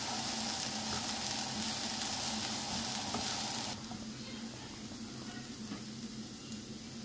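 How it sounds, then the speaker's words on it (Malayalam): Chopped onion, crushed garlic and ginger sauté in a hot pan with a dense, steady sizzle that drops noticeably in loudness halfway through, with faint stirring scrapes and no talk. "2 ടീസ്പൂൺ വെളുത്തുള്ളി ചതച്ചത്, 2 ടീസ്പൂൺ ഇഞ്ചി ചതച്ചതും കൂടെ ഇട്ട് കൊടുക്കാം. ഇത് ചതച്ചതല്ല, ഇനി ചെറുതായിട്ട് കൊത്തി അരിഞ്ഞതാണ്. എന്നിട്ട് നന്നായിട്ട് വഴറ്റിയെടുക്കാം."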